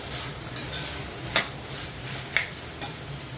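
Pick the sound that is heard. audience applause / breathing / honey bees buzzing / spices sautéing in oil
spices sautéing in oil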